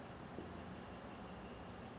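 A pen writes a house address by hand for a second-grade Hindi lesson, giving a soft, continuous scratching on paper that stays faint and close throughout, with no talking.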